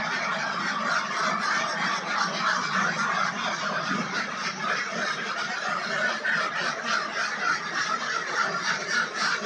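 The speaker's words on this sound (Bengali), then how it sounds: "ওই যে আমাদের হাঁস" A crowd of ducks on a village duck farm quacking and honking together, a dense, continuous chorus close by and loud, with no talking over it.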